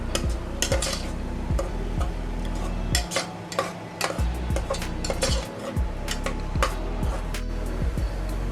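Onions with salt are stirred in a pan, with repeated metallic spatula scrapes and clinks against the pan at a loose, steady rhythm. A faint sizzle sits underneath.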